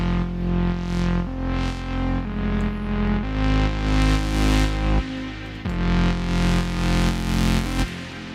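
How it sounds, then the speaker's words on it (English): A Moog synthesizer plays sustained, buzzy, distorted chords that change every second or so. The sound is loud and close, with swelling filter sweeps and no voices. "This is the Moog."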